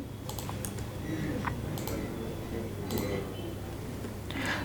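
Keys tapped on a computer keyboard while entering a user ID on an income tax portal login page, a few light irregular clicks over a steady background hum.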